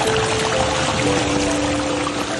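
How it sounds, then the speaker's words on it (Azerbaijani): Mountain spring water in Kalbajar pours and gurgles in a steady, loud, continuous stream close by, with no talking over it. "bu cür gördüyünüz kimi bulaq suyu görmək mümkündür"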